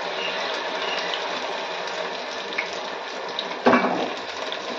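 Water runs steadily from a tap while something is rinsed under it, a close continuous splashing hiss. It ends with a louder splash and clatter as the item is handled.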